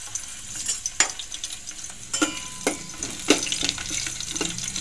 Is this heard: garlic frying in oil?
yes